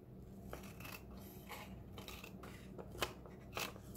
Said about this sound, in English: I need to cut a little bit more off that.